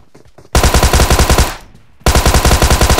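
Automatic gunfire from PUBG Mobile sounds in two loud, rapid bursts of shots, separated by a short quieter gap.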